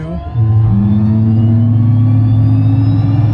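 A Cirrus Vision Jet engine spins up with a steady rising whine and a deep droning hum that grows louder after a brief quiet start, holding a rough, loud tone.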